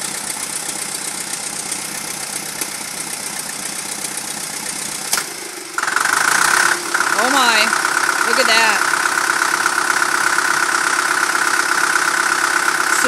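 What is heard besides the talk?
tractor engine running on diesel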